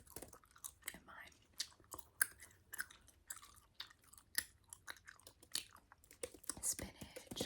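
Gum chewed close to the microphone in a quiet setting, with soft, moist smacking and clicking sounds repeating in an uneven rhythm throughout.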